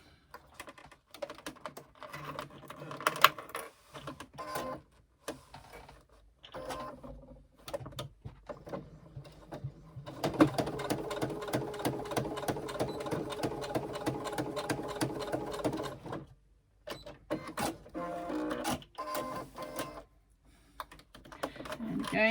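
Sewing machine basting a strap onto vinyl for a backpack, stitching in short stop-start bursts of rapid close needle clatter, then a longer sustained run, with pauses between.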